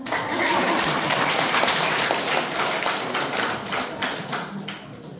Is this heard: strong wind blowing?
no